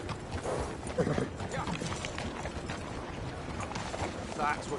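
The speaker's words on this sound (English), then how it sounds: "That's what you call a prize-winning horse" Horse hooves in the video game Red Dead Redemption 2, a busy, moderately loud clatter of clip-clopping steps mixed with other game noise, with no pauses.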